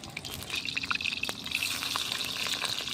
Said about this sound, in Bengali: এক এক করে এরকম করে আমি সবগুলি ভেজে নেব।